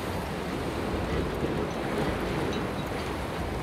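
Strong wind rushing steadily in the America's Cup sailing video game during a regatta, a constant broad roar like surf with no pauses.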